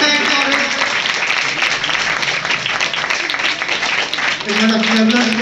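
Audience applause at a devotional song launch event, loud, sustained clapping from a crowd throughout, with a voice talking over it.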